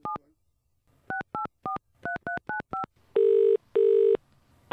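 Telephone keypad dialing tones, a single beep then a quick run of seven short evenly spaced beeps, followed by two longer, louder busy-style tones, clear and close with no talking.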